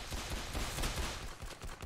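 Revolver shots in the Roblox game Arsenal sound as a quick run of muffled, fairly quiet gunfire bursts over less than two seconds.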